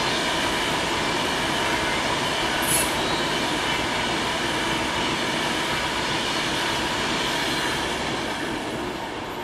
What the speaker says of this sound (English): Comes another Pendolino.